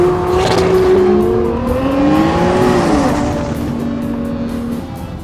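Nissan GT-R AMS Performance Alpha 12 engine pulling hard, loud and close, its pitch rising through the revs then easing off and fading slightly, with a brief tire squeal and no talk.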